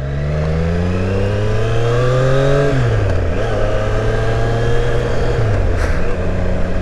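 A motorcycle exhaust revs up loud and close, pitch climbing then dropping, holding a throaty idle before another short rev.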